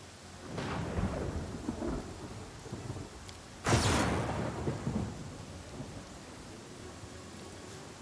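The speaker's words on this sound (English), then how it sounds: "It's raining." Thunderstorm with rain in a video game: steady rainfall hisses throughout while a low roll of thunder builds early and a sharper, louder thunderclap strikes midway, then fades back into the rain.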